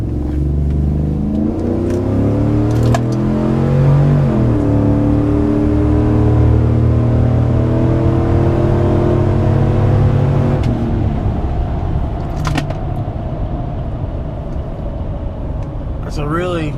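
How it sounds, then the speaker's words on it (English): A 2007 Chevy Avalanche truck with a performance cam and DOD/AFM delete revs hard through a pull, engine note climbing steadily through the gears with shifts, loud and close, then easing off to a lower cruise. "It's a really nice, smooth pull, considering how heavy this truck is."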